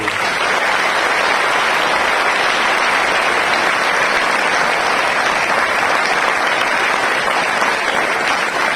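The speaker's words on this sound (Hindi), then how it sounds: "मैं चाहता हूं जोरदार ताली अपने पेरेंट्स के लिए।" A school audience claps loudly for their parents, a dense, continuous round of applause from many hands that stays even throughout with no voices on top.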